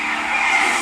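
Tires screech loudly as a car skids in the Resident Evil 6 video game, one continuous harsh squeal lasting under a second, close and alone.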